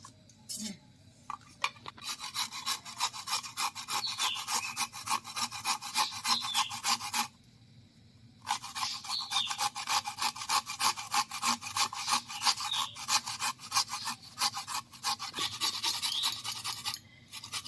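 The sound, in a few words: grating carrot for carrot halwa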